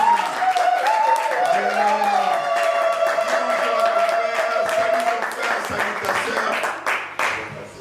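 Church congregation at a worship gathering clapping and cheering steadily, with voices singing or calling out over the applause, which thins slightly toward the end.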